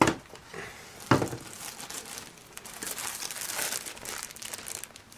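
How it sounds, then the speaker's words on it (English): Rolls of duct tape and waterproof medical tape being handled for a medical kit, with close, busy plastic crinkling and rustling throughout and a sharp crackling burst about a second in. "Duct tape."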